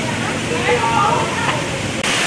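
Waterfall along the explorer's trail at Akron Zoo in Ohio, a steady rushing wash of falling water heard close and loud, with someone talking over it throughout.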